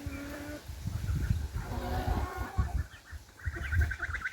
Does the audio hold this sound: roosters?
yes